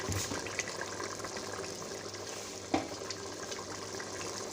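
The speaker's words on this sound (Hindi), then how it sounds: "अब इसमें हमने घी डाल देना है, देसी घी डाला है इसमें" Desi ghee pours into a cooking pot for mutton qeema, a steady close liquid gush and sizzle with one brief clink partway through.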